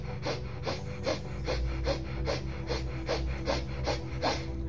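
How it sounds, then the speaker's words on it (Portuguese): Short, rapid, forceful breaths through the nose in a breathing exercise, about a dozen sharp evenly spaced sniffs over a low steady background. "E ela é uma respiração que você vai fazer ela acelerada, então você vai respirar assim, ó,"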